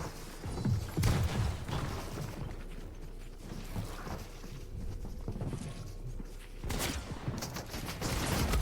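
Gunfire in a competitive video game match plays as quick bursts and rattling shots over a busy background of game effects, fairly quiet throughout.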